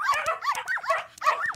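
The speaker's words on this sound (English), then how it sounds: "Release the hounds." Several hounds barking in quick, rhythmic succession, sharp yelping barks repeating about every few tenths of a second, close and loud with no talk.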